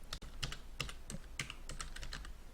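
Quick, quiet keystrokes on a computer keyboard as a short note is typed, a close, even run of light clicks with brief pauses.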